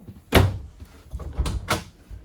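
A door on a 2021 Wildwood 28VBXL travel trailer swings open into the back bunk room, giving a sharp knock of the latch followed by a softer second thud about a second later, close and clear.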